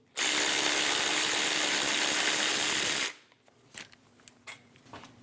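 A pneumatic impact wrench spins off a caliper bracket bolt through a 21mm socket on a 2001-2006 Chevrolet Silverado 2500 front brake. It gives one loud, steady burst of nearly three seconds, followed by faint clinks and rattles of metal parts.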